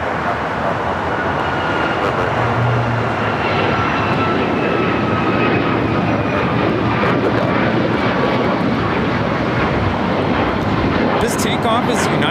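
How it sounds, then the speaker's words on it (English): A United Airlines Boeing 737 MAX 9 bound for Tampa takes off at LAX, its engines a loud, steady roar that holds for the whole stretch without letting up. "This takeoff is United Airlines 279 taking off to Tampa, Florida on the MAX 9."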